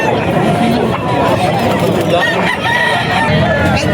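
Roosters crow amid clucking fowl at a busy chicken market in Bocaue, with loud crowd chatter and people talking close by.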